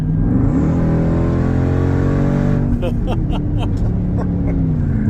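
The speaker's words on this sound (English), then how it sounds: "that back exhaust sounds pretty good" A car engine revs loudly up close, its pitch climbing steadily before settling into a rough, burbling exhaust idle, with a faint voice and something rattling underneath.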